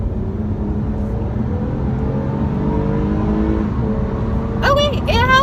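A 2018 Toyota Camry in sport mode accelerates at full throttle, steady engine drone rising in pitch across several seconds from inside the cabin, ending with a louder surge near the close.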